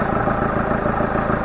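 A 2008 Citroën C5 engine idles steadily while the transmission is being filled with oil, a dense, even rumble heard close and loud without any break or talk.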